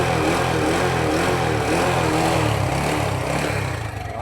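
A cleaned motorcycle, freshly fitted with its plate, runs with a steady loud engine drone close by, holding a continuous rumble that eases slightly at the end with no talking over it.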